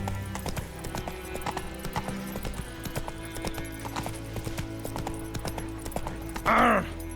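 In The Witcher: Wild Hunt, the horse Roach gallops with a rapid, steady clip-clop of hooves, close and clear, ending with a short whinny near the end.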